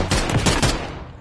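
Several quick gunshots in a Call of Duty: Modern Warfare 3 hardcore match, a tight cluster of loud sharp reports close by, fading into a short tail.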